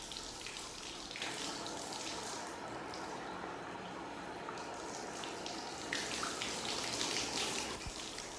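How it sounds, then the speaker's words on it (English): Steady running water while hair is shampooed, a continuous close splashing wash with small surges and drips, no voices. "right now I'm just shampooing my hair"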